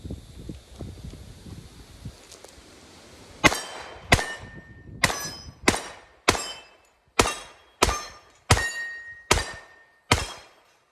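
Bullets from a .45 ACP pistol strike steel plate targets in a series of about ten sharp metallic clangs, each ringing briefly and spaced roughly evenly, after a stretch of quieter ambient noise.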